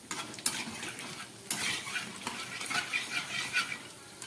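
Coriander leaf pakoras fry in hot oil while being stirred in a pan, with a steady sizzle and repeated scraping clatters of a spoon against the vessel, close and moderately loud.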